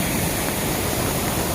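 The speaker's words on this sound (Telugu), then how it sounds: "చూడండి నీళ్ళు అనేవి ఎలా పోతున్నాయో" Floodwater rushes loudly through a breached pond embankment after days of rain, a steady close roar of churning water with no pauses or voices.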